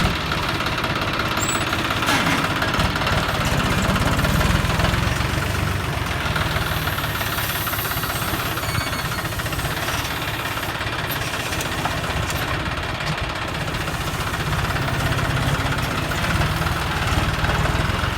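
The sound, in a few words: Kioti 90 hp tractor engine running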